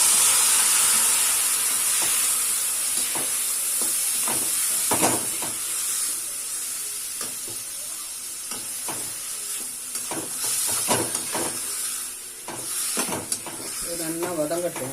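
Cut tomatoes with turmeric powder sautéing in a pan, a steady bright sizzle and hiss with scrapes and stirring clatter from a spoon, continuing throughout.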